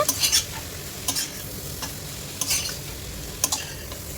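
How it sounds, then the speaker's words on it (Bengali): A spoon stirs boiled masoor lentils through a pan for an egg and potato dal, giving several brief scraping sweeps over a low steady sizzle, close and moderately loud with no talking. "মুসুর ডালটা দিয়েও ভালোভাবে নাড়াচাড়া করে নিতে হবে"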